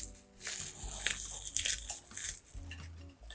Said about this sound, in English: No technique here, just crumble potato chips and sprinkle.